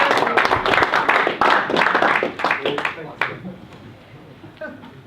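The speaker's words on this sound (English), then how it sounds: "Give yourself a round of applause." Audience applause at a property networking meeting, a dense burst of clapping mixed with voices that tapers off over a few seconds.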